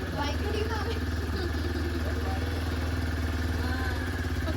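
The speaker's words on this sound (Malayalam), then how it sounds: "ആമയാ ഓടിക്കുന്നല്ലേ ബൈക്ക്" A motorcycle engine runs steadily close by, a low throbbing drone that holds at an even level throughout.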